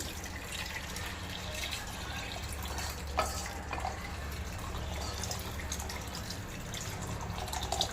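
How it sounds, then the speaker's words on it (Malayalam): Hot water pours and splashes in a steady stream over rice in a pot, with a few drips and small sloshes, fairly quiet and close. "hot water ഒഴിക്കണേ"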